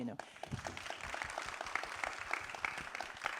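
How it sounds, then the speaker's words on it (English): Steady applause from a group at a school debate, a dense patter of many hands clapping throughout with some voices underneath. "So a round of applause to yourself."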